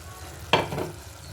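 A short burst of sizzling as paneer pieces and dried fish drop into a pan of frying tomatoes, a sudden hiss that quickly settles into a faint steady crackle, close and alone.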